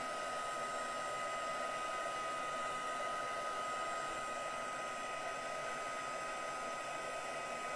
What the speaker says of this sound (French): J'espère que ça va pas faire trop de bruit. Et donc je vais chauffer.